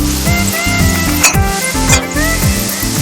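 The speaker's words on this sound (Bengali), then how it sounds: "এবার আমি ভালো করে কষিয়ে নেব" Spices, fried potato and prawns sizzle loudly in a pan for jackfruit prawn curry while being stirred, with repeated scrapes and clinks of a utensil against the pan over the steady frying hiss.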